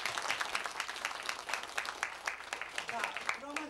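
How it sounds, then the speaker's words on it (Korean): An audience claps warmly at the close of an academic symposium to thank three professors, a dense, steady patter of hands lasting several seconds, with a voice rising faintly near the end. "여러분 여기 김호일 교수, 그 다음에 현일원 교수, 그 다음에 박창순 교수님께 감사의 박수 한번 해주세요."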